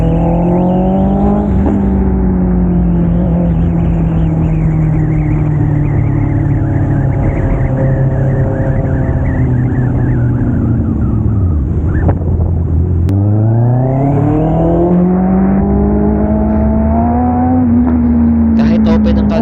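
Vehicle engine rev bombing up close: loud, continuous rumbling revs that rise and fall in pitch, dip sharply with a popping burst, then climb again, roaring throughout without pause.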